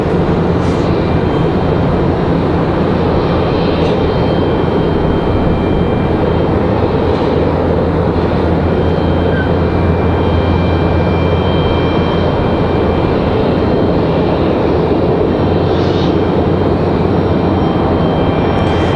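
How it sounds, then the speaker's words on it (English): A Cessna Super Cargo Master at Raleigh Durham International airport gives a loud, continuous engine roar that stays steady and broad for the whole stretch, with no voices over it. "This one, a separate Cessna Super Cargo Master."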